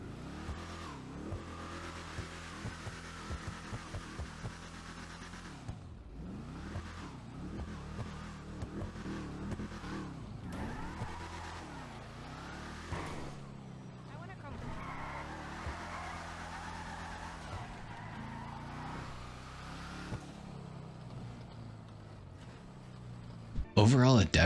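A Bravado Gauntlet Hellfire muscle car in GTA Online revs its engine repeatedly, the pitch rising and falling in long swells, close and loud, with brief tire squeal and a person talking over parts of it.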